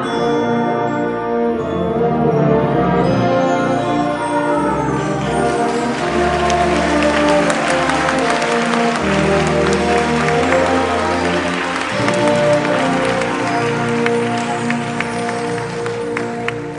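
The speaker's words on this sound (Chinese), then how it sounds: "我们再用最热烈的掌声送给我们这届优秀的毕业生们。" Loud, sustained applause from a concert audience for graduating band students, a dense steady clatter of clapping that lasts throughout.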